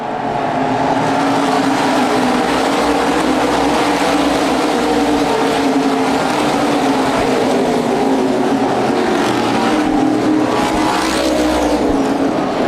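Modified race cars roar around an oval track at a USA Modifieds event at ORP in Indianapolis, a dense, continuous engine drone with rising and falling pitch as the pack circles, loud and sustained throughout.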